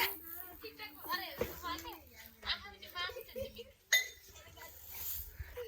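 Pots and vessels being washed by hand, with scattered metallic clinks and knocks of dishes set among almost constant chatter from a woman and children nearby.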